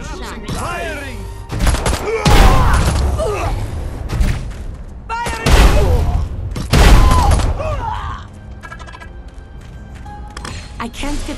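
Weapons fire in the video game Destroy All Humans! 2: Reprobed, with several heavy booming blasts and crackling volleys close by, laid over a layer of busy game sound effects and chirping tones.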